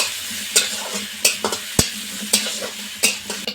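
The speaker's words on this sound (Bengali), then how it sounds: "পেঁয়াজটা খুব ভালো করে একটু ভেজে নেব।" Chopped onions and slit green chillies frying in a pan, with a soft hiss under repeated irregular scrapes and clanks of a spatula stirring, one sharp knock among them.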